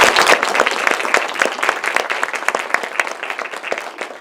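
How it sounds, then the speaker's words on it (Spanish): Audience applause greeting Dr. Eugenio Filloy at a 1968 student movement anniversary event, dense steady clapping from a crowd, loud and close, continuing for several seconds without voices. "demos la bienvenida al doctor Eugenio Fillol con un aplauso"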